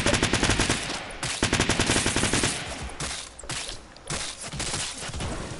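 Rapid automatic gunfire in an online shooter game, bursts of close, loud shots rattling in quick rhythm with short pauses between volleys, no talking over it.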